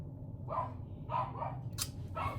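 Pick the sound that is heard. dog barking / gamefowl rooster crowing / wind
dog barking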